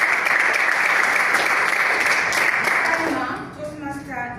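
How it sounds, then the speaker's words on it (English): Members of a Toastmasters club meeting give a round of applause, full dense clapping that carries on for about three seconds before fading into a voice speaking. "let's give him a round of applause"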